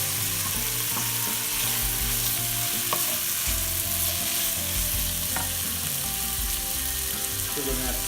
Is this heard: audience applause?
no